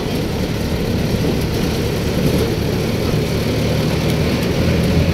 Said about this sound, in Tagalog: Paikot lang itong jeep.